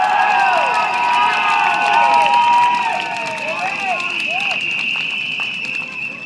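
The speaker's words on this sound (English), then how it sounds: "Let's give ourselves a big round of applause." A large outdoor crowd at a Tampines election rally in Singapore cheers, shouts and claps continuously, with whistles and excited voices rising and falling, loud and sustained throughout.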